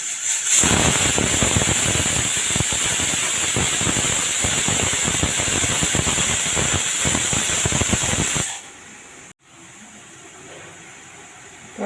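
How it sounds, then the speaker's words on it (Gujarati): A pressure cooker of mung beans and potatoes whistles on a gas stove, a loud, continuous hissing steam blast with fluttering pulses that cuts off sharply, leaving a quiet hiss and a faint click. "તો આપણે 4 સીટી વાગી ગઈ છે."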